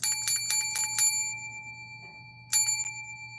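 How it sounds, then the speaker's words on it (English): A small hand bell used as an affirmation reward rings in a quick run of five bright dings, then pauses and rings once more, clear and close with long ringing tones. "I need to ring that. My little affirmation reward bell."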